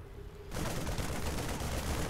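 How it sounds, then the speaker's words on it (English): StarCraft Marines open fire on destructible debris, a sudden burst of rapid, crackling gunfire that cuts in after a brief quiet moment and continues as a dense, loud volley. "These 3 Marines slowly pounding away at this destructible debris"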